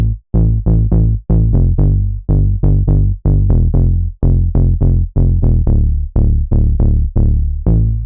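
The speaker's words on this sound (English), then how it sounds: "Bass Loving is a really fat and analog sounding bass," Fat, analog-style synth bass with a disco-influenced house feel, playing punchy rhythmic notes that decay quickly, loud and upfront with no talk.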